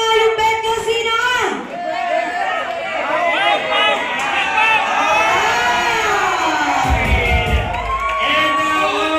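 A crowd at a celebration party shouts and cheers loudly for their favorite contestants in a paper-games battle, voices rising and overlapping in excited whoops throughout.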